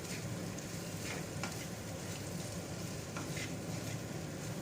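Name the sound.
stirring flattened rice (poha) with fried potatoes in a pan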